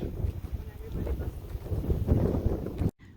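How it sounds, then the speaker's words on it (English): Strong wind buffets the microphone in uneven low gusts, then cuts off abruptly near the end. "It is so windy."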